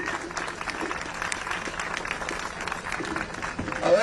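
A rally crowd at Harvard supporting international students applauds, a dense wash of clapping heard at moderate distance with some voices mixed in, steady throughout.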